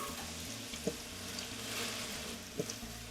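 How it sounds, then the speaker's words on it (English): Onions cook in melted butter in a pan with a quiet, steady sizzle. Two soft clicks of a utensil stand out against the low hiss, and no one speaks. "our butter has melted, so now I'm going to add my onions"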